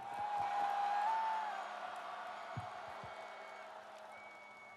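A large crowd cheers at an outdoor political rally in Gwanghwamun Square, Seoul: a broad, sustained roar with whoops and scattered claps that swells and then slowly eases off.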